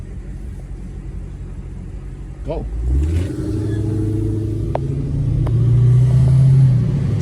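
A black Dodge Hellcat with blacked-out tinted wheels and windows revs and accelerates nearby, its deep rumble climbing in pitch and loudness over several seconds, with a short spoken word partway through.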